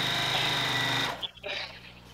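A sewing machine stitches with a loud, dense, continuous whir for about a second, then cuts off abruptly, leaving quieter clatter and handling noises.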